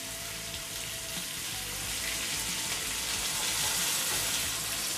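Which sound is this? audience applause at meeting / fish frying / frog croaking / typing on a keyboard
fish frying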